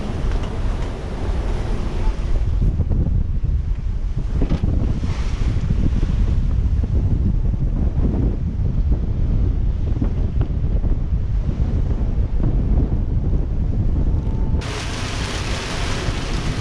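Strong wind over 30 knots roars at sea aboard a sailboat crossing toward Inagua in squalls, a loud continuous buffeting with wind noise on the microphone and waves washing beneath, and no talking.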